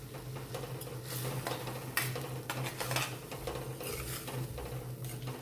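Spices such as turmeric and dried fenugreek leaves are stirred into khichdi in a pot, a steady close scraping and clinking of a spoon against metal over a low hiss of cooking, with no talking.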